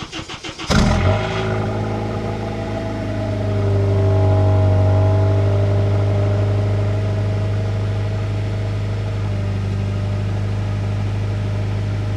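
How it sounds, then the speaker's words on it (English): A car engine cranks briefly, catches, and settles into a loud, steady idle with a low drone that swells slightly and then holds. "let's get into this cold start"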